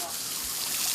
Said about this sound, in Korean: 시원하게 샤워를 시켜주는 겁니다